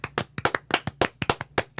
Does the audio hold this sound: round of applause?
yes